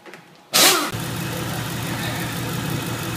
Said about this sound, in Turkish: Arabamızı çalıştırdık.